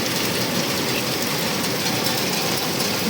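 Heavy rain pours down in a continuous, loud, even hiss close by, with no distinct thunderclap standing out.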